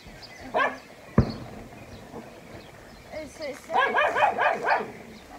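A dog barks in a rural yard: a single bark early on, then a quick run of several yelping barks near the end, moderately close, with quieter background sounds between.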